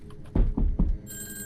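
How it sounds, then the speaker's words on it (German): A telephone rings in a horror video game, with three short, loud electronic ring bursts in quick succession followed by a thin, steady high tone, with no talking. "Telefon."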